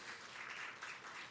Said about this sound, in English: By the way, hand of applause for them, please.